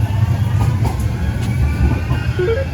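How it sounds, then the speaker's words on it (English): A Manchester tram pulls in at a stop near the Etihad Stadium, giving a low, steady rail rumble with faint rising whine and light clatter, fairly close and continuous, without talk. "Oi, tram."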